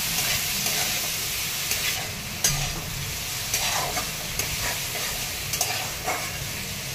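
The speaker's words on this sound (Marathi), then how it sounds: "छान परतून घ्यायची." Tomato and coriander sauté in a hot tempering for Marathi varan, a continuous sizzle punctuated by several spatula scrapes and stirs against the pan, with no voices.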